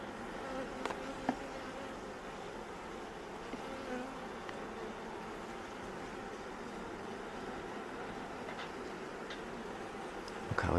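Honeybees hum in an open hive while frames of honeycomb and brood are handled. A dense, steady buzz holds throughout at low to moderate level, with occasional faint clicks and knocks from the frames and no speech.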